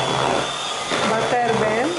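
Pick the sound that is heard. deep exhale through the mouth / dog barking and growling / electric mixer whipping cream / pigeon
electric mixer whipping cream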